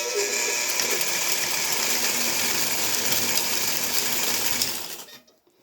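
A sewing machine stitching along the edge of a fabric face mask, a loud continuous mechanical whirr running steadily for about five seconds before stopping abruptly.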